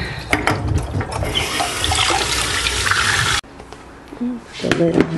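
Tap water runs hard into a kitchen sink for several seconds, a loud rushing splash that cuts off abruptly, followed by quieter clinks and handling noises.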